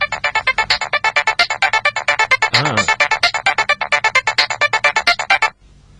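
Mobile phone ringtone chiming in a quick, repeating electronic melody, loud and close, playing continuously for several seconds before cutting off abruptly.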